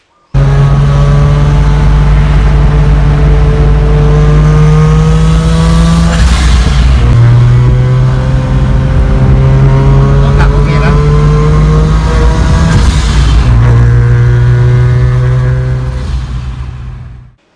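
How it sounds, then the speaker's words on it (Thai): A 13B rotary engine in a Mazda RX-3 GT wide-body revs loudly and steadily up close, its pitch stepping up twice in the middle and toward the end before easing off, with no talking. "อันนี้เป็นเครื่อง 13B นะครับ ตัวนี้เป็น 13B FFD นะครับ"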